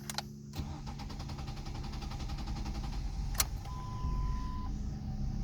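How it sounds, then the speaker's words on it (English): A 2007 Ford Focus engine cranks with a quick ticking rhythm, then catches and settles into a low idle, all heard faintly and close by without speech. "So even when I start my car"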